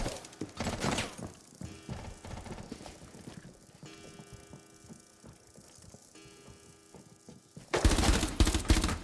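Rapid bursts of gunfire in Rainbow Six, sharp clustered shots repeating in short groups over several seconds, with a loud dense barrage near the end and no speech.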